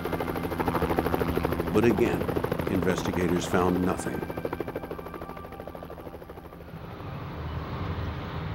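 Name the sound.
helicopters circling overhead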